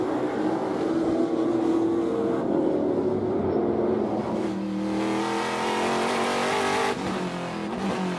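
Trans Am series race cars roar around the Sonoma road course during a championship race, with engines loud and sustained throughout and revs rising and falling as the cars pass close by.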